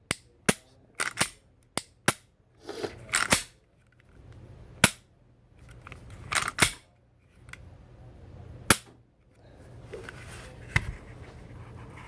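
Glock G42/G43 pistol trigger with a drop-in custom trigger being pressed and reset repeatedly, sharp close metallic clicks in an irregular series with quiet gaps between them.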